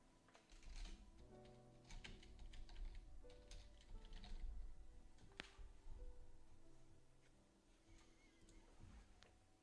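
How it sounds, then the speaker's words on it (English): Fast, light keystrokes clatter on a computer keyboard close by, an uneven run of soft clicks with no voices over them. "I was typing in Discord general"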